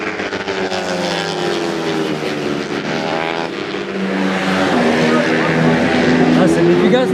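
A race car engine revs during a qualifying session, its rising and falling drone heard steadily at a distance beneath loud, continuous talk.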